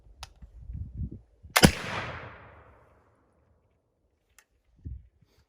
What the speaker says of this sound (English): I'm just going to shoot it down in the swamp.